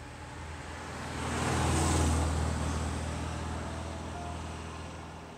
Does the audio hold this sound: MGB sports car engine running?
yes